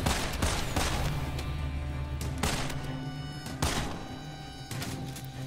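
Gunfire in the first-person shooter Immortal Redneck, a dense run of loud repeated shots and thumping impacts at close range, continuous throughout with no speech over it.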